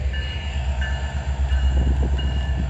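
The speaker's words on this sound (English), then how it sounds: "here comes a Union Pacific train" A slow Union Pacific freight train hauling boxcars rolls past a crossing, a steady low rumble with faint high squeals and clanking, close and continuous.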